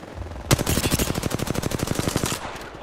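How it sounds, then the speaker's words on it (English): Rapid automatic gunfire from the video game Apex Legends, a loud sustained burst of closely spaced shots that starts abruptly with a sharp crack and rattles on steadily for about two seconds before stopping, with no talking over it. "Listen up, I'm getting shot at."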